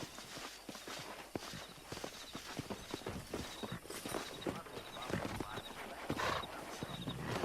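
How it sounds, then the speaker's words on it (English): Horses' hooves in the video game Red Dead Redemption, a fast, dense patter of hoofbeats at a gallop, moderately close and continuous over a bright hissing ambience. "there's a pack of wild horses nearby"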